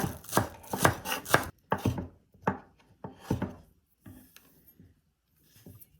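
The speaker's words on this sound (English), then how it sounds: "Chop them into small pieces." A knife chops two green onions into small pieces on a cutting board, giving quick bursts of sharp taps followed by a few slower, fainter cuts.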